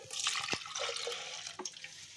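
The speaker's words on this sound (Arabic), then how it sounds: "يلا كده حطي يا روناء اول كوبايه لبن" Milk is poured from a cup into a bowl while making crêpes in a home kitchen, a soft continuous liquid stream with a few splashy drips, quiet and close.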